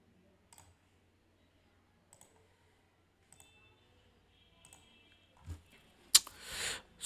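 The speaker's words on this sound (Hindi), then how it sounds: "कीबोर्ड वगैरह थोड़ी सी इग्नोर करना" Sparse keyboard clicks come at a slow pace, single taps spaced about a second apart, faint and close. They end in a louder rustle and a brief sharp clink of handling noise, with no talk.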